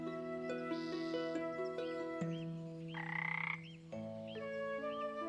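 A cartoon frog croaks repeatedly in a bright, tonal, musical way, layered over a steady sustained music bed, with a longer throaty croak in the middle.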